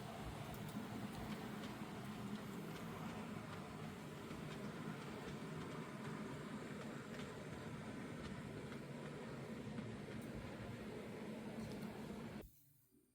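Several Scale Trains Southern Pacific SD40T-2 tunnel motor model locomotives run together with a steady, even mechanical rumble that holds throughout and then cuts off abruptly just before the end.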